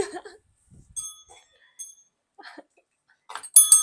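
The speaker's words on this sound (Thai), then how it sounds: "กระดิ่งมาแล้ว" A small hand bell being picked up and handled gives a few light, scattered metallic clinks and brief rings, then a louder burst of bright ringing at the end, with faint incidental noises between.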